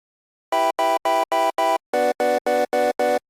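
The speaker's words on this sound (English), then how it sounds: "layered with a saw wave and triangle wave." Ten short, evenly spaced synth chord stabs from a 3x oscillator layering a bright, buzzy sawtooth edge with a softer triangle tone, played in two groups of five.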